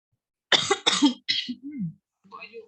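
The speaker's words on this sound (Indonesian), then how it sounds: "Ini enak banget nih batuk-batuk." Two sharp coughs close together, followed by a softer, throaty sound and a short murmur of speech.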